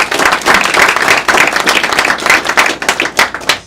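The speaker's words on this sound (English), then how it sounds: "So please give yourself a big round of applause." Crowd applauding at a political rally for Senator Rick Scott in Little Saigon, a loud, sustained burst of many hands clapping close by, tapering slightly toward the end.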